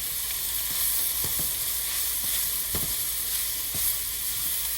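Fajita vegetables sizzle steadily in a hot pan with a pinch of sugar added, a continuous bright frying hiss broken by a few soft stirring clicks and scrapes, close and alone.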